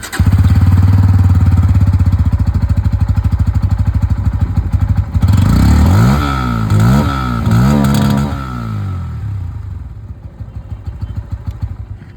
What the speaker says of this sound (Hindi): अब मैं आप लोगों को यहाँ पर जो N160 की आवाज़ है वो भी सुना दूँ।